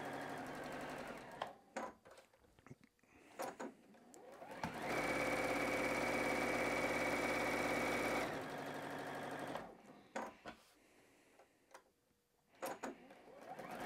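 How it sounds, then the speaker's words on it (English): Home sewing machine stitching quilt half-square triangle units, running one steady, loud continuous burst of several seconds, with quieter handling sounds and short stitch bursts before and after. "I'm going to start off of the edge and I'm going to sew down and all the way through all four sides."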